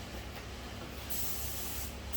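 A spray gun atomizing Alclad paint in small amounts onto a Star Wars Mandalorian jetpack model, a close, steady airy hiss with a brief change in pitch near the start and end.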